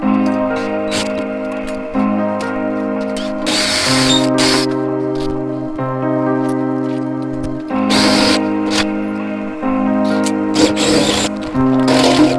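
Power drill whining steadily through a Honda Hornet motorcycle fuel tank, loud and close, its pitch shifting in stages, with bursts of harsh grinding bite as the bit cuts the metal.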